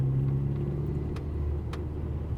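A turbocharged MK6 Golf R's small engine drones with a steady low rumble close up on a back road, holding a fairly even pitch without a clear rev spike.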